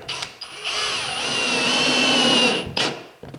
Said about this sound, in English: you can see I'm using a drill today and not my normal impact driver